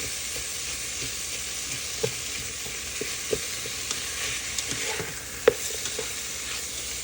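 Pasta sauce with its juices sizzles steadily as it cooks down in a pan, a constant close hiss broken by occasional soft pops and stirring clicks, with no talking.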